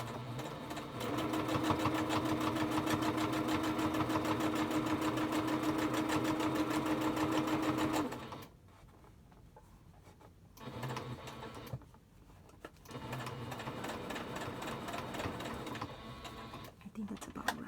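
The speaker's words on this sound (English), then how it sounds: "Make sure your wire is all the way to the edge," Sewing machine running loudly and steadily while sewing a nose wire into a one-piece fabric mask, then stopping and restarting in shorter runs separated by brief quiet gaps.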